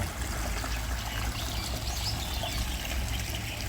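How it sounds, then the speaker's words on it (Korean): A shallow stream with stepping stones in a reservoir-side arboretum in Seoul trickles and babbles steadily, a soft continuous flow heard from nearby with no voices. "저기 졸졸 흐르는 시냇물과 징검다리가 정겨워 보이네요."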